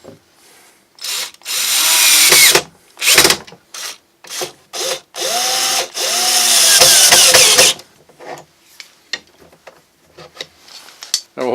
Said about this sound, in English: Alright, I'll drive in the screws from the back side.